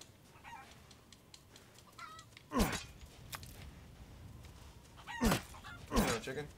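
Chickens clucking in Resident Evil Village, scattered soft clucks with a few sharper squawks over a noisy ambient background.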